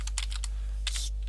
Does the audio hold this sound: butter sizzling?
no